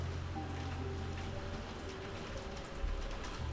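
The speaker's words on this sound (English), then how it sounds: "You hear that rain out there? It is absolutely pissing it down." Heavy rain pouring down outdoors, a steady dense hiss of drops with a low rumble underneath, continuous and fairly close, with no voices.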